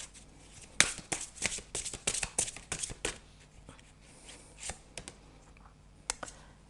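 A deck of tarot guidance cards being shuffled and drawn up close, with bursts of riffling, flicking snaps and soft slaps of cards, irregular and fairly quiet, no talking.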